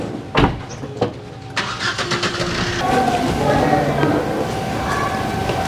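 A motorbike engine starts with a few sharp cranking bursts, then catches and settles into a loud, steady idle close by, with voices talking over it.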